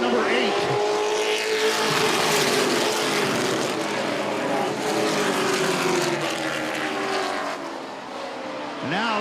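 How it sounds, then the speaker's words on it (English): Race trucks in a 35-lap CTS main event roar around the Texas track, engines screaming loudly and continuously with pitch sweeps as they pass, while a commentator talks over the racing. "These Texas trucks doing it for you here at the Affordable Golf Carts 250"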